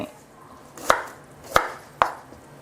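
Three crisp knife chops slicing galangal into rounds strike a cutting board at an uneven, unhurried pace, close and clear with nothing else around them.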